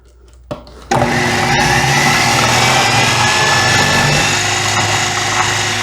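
A food processor fitted with the fine shredding blade whirs to life after a couple of clicks and runs at a loud, steady drone while shredding cabbage for coleslaw, close and uninterrupted.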